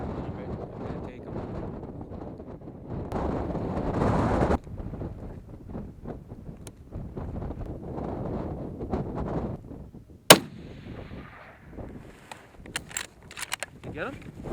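Rifle shot at a bighorn sheep outdoors, a single sharp crack about two-thirds through, heard over steady wind noise and quiet talk.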